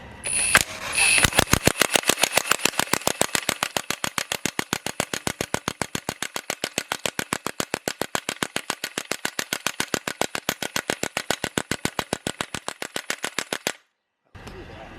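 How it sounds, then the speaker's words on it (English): An impact wrench on a low setting drives the bolt of a ball joint puller-separator, hammering out a fast, steady train of loud, sharp impacts for about twelve seconds before stopping abruptly. "Everything's always more fun with an impact wrench, so we're going to try that."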